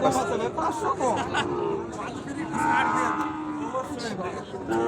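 At a crowded livestock market, cattle low in long drawn-out moos over a constant babble of people talking nearby.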